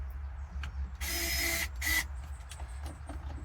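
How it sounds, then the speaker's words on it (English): Screws being tightened while car speakers are mounted, with two short bursts of close mechanical whirring about a second apart over a quiet background hum. "You do want to tighten them down, but you don't want to tighten them too much because they will strip out."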